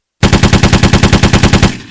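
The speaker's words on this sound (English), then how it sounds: "Give him a gunshot." A loud burst of rapid machine-gun fire from a sound board rings out after a brief silence, about fifteen evenly spaced shots in quick succession, ending in a short decaying tail.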